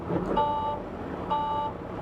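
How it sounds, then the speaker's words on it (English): Low air pressure alarm in a 2019 Volvo truck cab after a restart, two steady electronic tones, each about a third of a second long with a gap between, heard near over a low engine rumble. "Now you hear your low air alarm is working."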